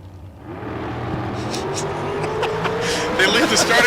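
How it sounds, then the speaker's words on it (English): Drag race cars launch off the starting line at a Spring Fling Million event, their engines rising into a loud, building roar as they pull away, with an announcer talking over the noise. "They leave the starting line clean."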